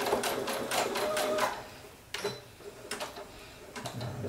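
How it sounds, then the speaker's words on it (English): Brother SE1900 embroidery machine stitching on a onesie, a rapid rhythmic ticking and clattering of the needle in bursts, close and moderately loud, with short pauses between runs. "we're going to stitch this shirt back together"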